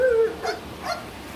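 A dog lets out a high whine and then two short yelping barks, close and moderately loud over a quiet background.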